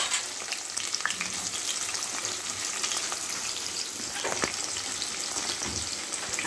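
Sliced onions with a pinch of salt fry in a pan, a steady close-up hiss and crackle that carries on without a break, with occasional louder spits and the scrape of a stirring spoon.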